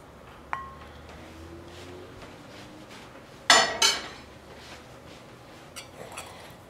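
A utensil stirs sauteed mushroom filling in a bowl, giving sparse light clinks and one brief cluster of scraping knocks against the bowl amid quiet room tone.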